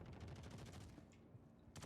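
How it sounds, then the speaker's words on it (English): Rapid bursts of gunfire in the video game Star Citizen, a dense rattling volley that fades briefly before another loud burst at the end. "I already hear gunfire."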